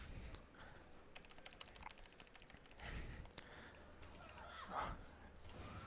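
Computer keyboard keys clatter in quick bursts during a Borderlands 2 speedrun, close and fairly faint, with a few louder clusters of presses.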